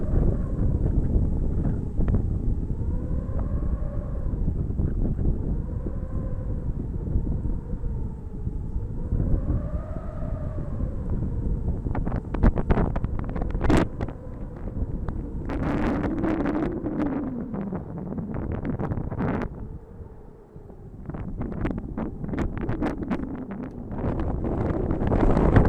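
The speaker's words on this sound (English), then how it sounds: "The wind is now becoming extremely strong on the exposed hilltop" Strong wind gusts batter the microphone on an exposed Welsh hilltop at an Iron Age hillfort, a loud continuous roar with sharp buffeting bursts and no voices.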